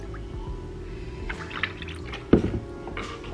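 Almond milk poured into a drink, heard as soft liquid trickling and dripping, with a brief louder splash near the end of the pour, close by and without talk.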